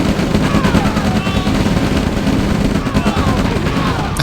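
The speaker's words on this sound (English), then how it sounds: "Flamethrowers under rifle fire and then a V2 missile to finish them off" Dense, loud rattle of rapid rifle fire in a Red Alert real-time strategy battle, continuous bursts layered with booming impacts from a V2 missile strike, thick and unbroken throughout.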